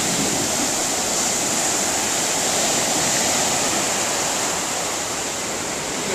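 A dredge pipeline pumps sand slurry onto a beach being nourished, giving a steady, loud broadband rush like pouring water, with surf-like noise and no break.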